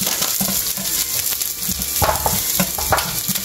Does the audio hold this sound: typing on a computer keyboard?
no